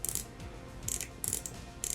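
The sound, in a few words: Scratchin' Sound Catra toy figure making its scratching sound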